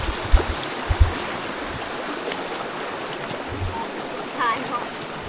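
Stream water in rural Laos flowing as a steady broadband rush, with a few low knocks near the start and faint sounds from people nearby.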